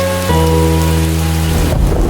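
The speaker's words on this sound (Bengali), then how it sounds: "কাল রাত থেকে মুষলধারে বৃষ্টি পড়ছে তো পড়ছেই।" Heavy rain pours steadily in a dense, loud wash, with a low sustained drone and tonal hum underneath that fades out near the end.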